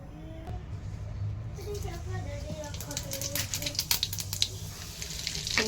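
Dal tempering with whole chillies and garlic sizzles in a pan, a soft crackling frying hiss with a few clinks, under quiet household background sounds.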